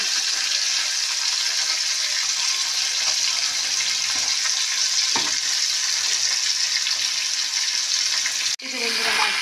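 Fish frying in a pan in a home kitchen, a continuous loud sizzle with faint clinks, ending in a sharp clatter and a short burst of voice.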